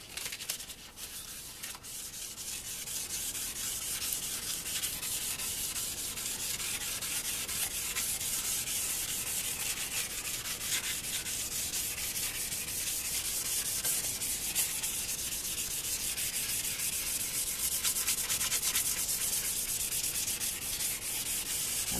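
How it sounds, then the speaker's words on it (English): A guitar body is wet-sanded by hand with worn 600-grit sandpaper and a little water, giving a steady, close, continuous rubbing hiss that runs alone and unbroken throughout. "And start sanding."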